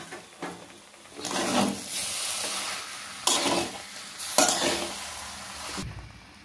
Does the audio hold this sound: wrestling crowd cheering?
no